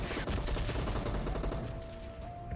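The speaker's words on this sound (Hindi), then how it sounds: "अब मुझे यहाँ पीछे की साइड से गन का साउंड आया" Gunfire in a battle royale video game, heard as a dense, continuous rattle of shots mixed with steady in-game background sound and no talk.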